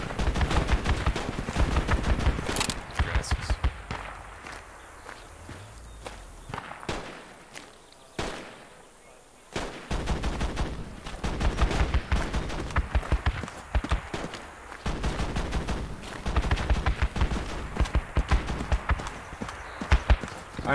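Gunfire in the tactical shooter game Project Reality during a close infantry fight, rapid bursts and single shots crackling in irregular clusters, with a brief lull midway before the shooting resumes steadily.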